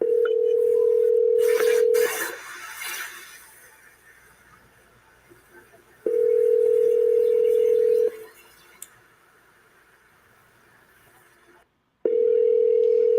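Office telephone line during a sales cold call: a steady dial tone hums for about two seconds, then DTMF dialing beeps, with the tone returning twice more between quiet gaps and faint background noise.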